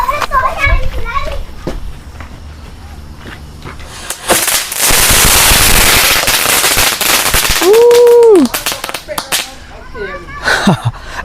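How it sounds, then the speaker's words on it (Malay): Hari Raya fireworks and firecrackers go off on a plantation settlement, with a burst of loud crackling pops, a rising whistle and a few sharp bangs, while children talk and shout excitedly nearby. "Okey, kita ambil bunga api ni. Kita try bakar."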